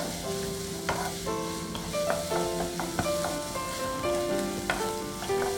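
Garlic for Maharashtrian pitla fries in a pan, giving a steady close sizzle with small crackles and occasional soft stirring taps, heard alone without talk.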